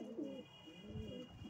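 Pakistani breed pigeons, a prize-winning racing bird among them, coo softly in a few low throaty phrases, close by over a steady background hum.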